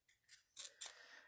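Scissors slicing through card stock while making an Easter card, a few crisp close snips followed by one longer cut, with no talking.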